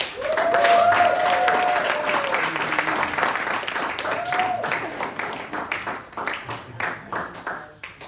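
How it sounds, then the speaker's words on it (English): Audience applause at a Berkeley Lake talent show, following a performer's introduction, a dense sustained wash of clapping that stays loud for several seconds and then thins into scattered claps, with a brief voice or whistle-like tone over it. "A round of applause, please, for Keiko Nirvana."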